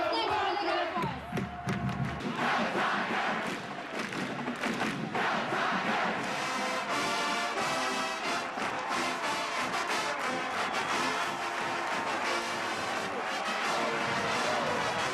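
A huge street crowd of about 15,000 fans in downtown Nashville roars and yells for their teams during a Battle of the Bands, a dense sustained wall of cheering with thumping beats and band sound underneath, loud throughout.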